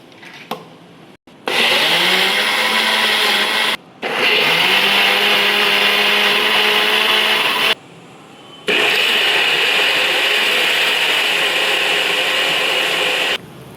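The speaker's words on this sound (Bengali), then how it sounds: "ডালটা বাটবো এই মিক্সিতে।" A kitchen mixer grinder grinding soaked lentils with ginger, green chili and salt, running in three loud, steady whirring bursts separated by short pauses, close by.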